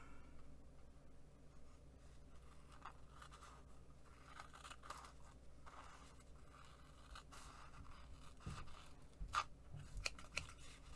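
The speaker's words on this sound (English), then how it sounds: "Let me grab the scissors instead." Scissors cut paper while junk journal pages are trimmed, with faint, quiet snips and scraping over a few seconds and slightly louder snips near the end.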